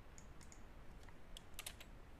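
Quiet typing on a computer keyboard, a quick scatter of light clicks in small bursts, some keys closer together than others, with no voice over it.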